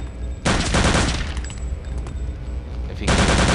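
Rapid automatic gunfire rattles in Return to Castle Wolfenstein, two loud dense bursts separated by a quieter stretch.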